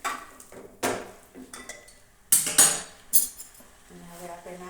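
A spoon stirs food in a metal pot with a few sharp clinks and scrapes against the sides, separated by quieter gaps of soft scraping.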